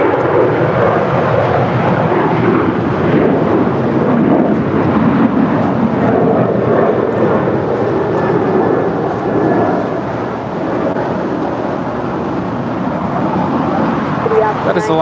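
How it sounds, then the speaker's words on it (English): An Alaska Airlines Boeing 737-900ER departing LAX, a loud, broad jet roar that holds steady and rumbles throughout, heavy and near, with radio-style chatter faint in the background. "That is Alaska Airlines Flight 278 departing to San Jose del Cabo. It's a 737-900 ER."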